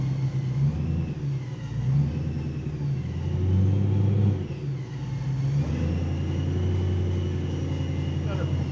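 Exhaust of a V8 BMW M3 rumbling deeply up close, swelling as the engine revs and then settling back, with a brief dip midway.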